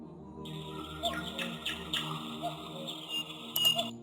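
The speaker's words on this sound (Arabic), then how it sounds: "بالنسبة عندنا هنا في بيرد ساوندز، أصوات الطيور" Birdsong from a sound effects library: steady high chirps and tweets repeating over a continuous bed of layered calls, clear and evenly loud throughout.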